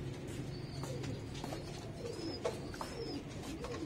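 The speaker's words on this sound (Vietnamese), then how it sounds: "Rồi bây giờ mời các bạn qua đây xem mấy con bồ câu" Mother pigeons kept in a breeding loft coo softly and repeatedly, with a few faint chirps over a low background hum and no voices.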